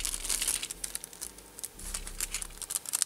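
A plastic bag crinkles and rustles in irregular bursts as parts from a Music Thing Modular Move eurorack kit are unpacked, close and moderately quiet, with no talking.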